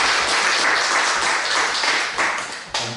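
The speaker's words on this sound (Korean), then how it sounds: "하나님께 영광을 박수드리겠습니다." A congregation at a Sunday church service claps in a dense, loud wash of applause that holds steady, then thins near the end.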